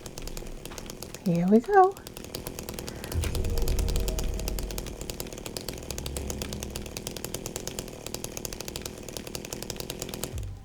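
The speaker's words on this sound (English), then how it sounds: "We got the chainsaw." A chainsaw in Silent Hill 2 (2024) runs with a steady buzzing, rattling engine drone through most of the span, fairly close, after a brief spoken phrase and a short revving whine near the start.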